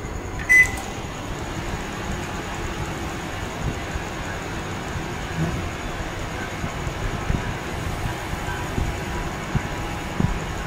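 A microwave oven running on micro mode while cooking custard, a steady low hum with faint rattles throughout and a short beep near the start.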